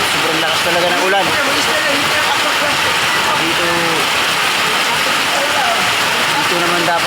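Heavy morning downpour roars as a constant, loud, dense hiss that never lets up, with faint voices buried under it.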